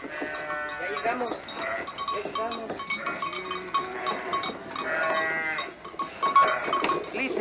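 A dense flock of sheep bleats continuously as it passes, with bells clanking and some voices mixed in.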